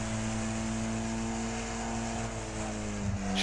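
Race car engine in Wreckfest at Tribend Speedway, a steady sustained drone holding high revs in fifth gear down the straight, loud and continuous with a slight shift near the end.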